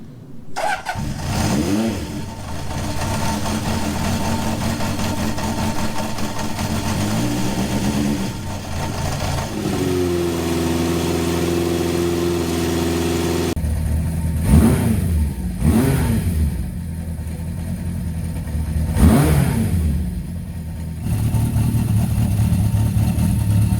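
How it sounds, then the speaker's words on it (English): A Honda CB750 motorcycle engine cranks, catches and settles into a lumpy idle, then is blipped through several throttle revs that rise and fall, loud and close throughout. "if I open the throttle slightly, it just gives it that chance to burst into life."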